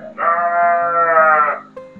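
Dairy goats on a small goat farm bleat: one loud, sustained nasal cry lasting over a second, then a brief fainter call, with a soft rhythmic beat beneath.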